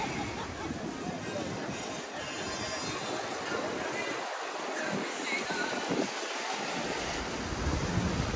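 Ocean surf rolling onto Bávaro beach at El Cortecito, Punta Cana, a steady broadband wash with wind buffeting the microphone and faint voices of beachgoers in the background throughout.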